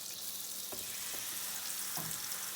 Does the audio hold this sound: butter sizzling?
yes